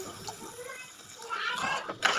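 Water pours into a pan of cooking curry with a steady splashing rush that swells louder toward the end, mixed with faint kitchen clatter; no voices.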